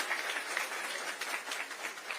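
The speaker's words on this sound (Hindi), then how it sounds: "ताली उनके लिए बजाइए।" Audience applause for a chief minister at a Chhattisgarh government event, a steady wash of clapping with no talk, moderately loud and continuous throughout.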